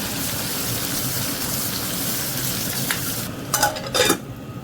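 Onions frying in a pan with asafoetida, curry leaves and dried red chillies, a continuous sizzle that ends in a few louder clinks and scrapes of a utensil against the pan, close up with no talking.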